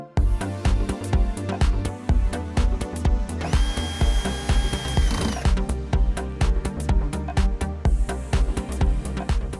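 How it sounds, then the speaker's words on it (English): A power drill whirs in short, repeated bursts, driving screws into the cover of a 3/4 HP painted 56-frame boat lift motor. Loud and close, the rhythmic trigger pulses are broken by one longer sustained spin midway, with no speech. "Tighten the screws."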